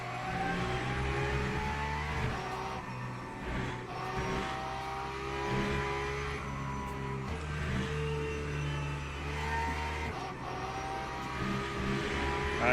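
Porsche race car engine in a racing video game during an endurance race at Barcelona, a steady loud drone with harmonic whine rising and falling through gear changes, continuous throughout with no talking.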